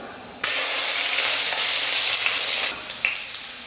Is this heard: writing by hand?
no